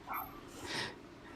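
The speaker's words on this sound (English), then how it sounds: "Why is she barking so much?" A dog named Rika barking in the background, a couple of short, muffled yips and barks heard from another room over a steady hiss.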